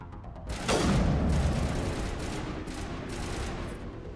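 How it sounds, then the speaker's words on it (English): Sustained enemy gunfire and blasts aimed at the player in a Mass Effect game, a loud continuous barrage with repeated impacts that persists to the end without pause. "these guys just want to shoot me."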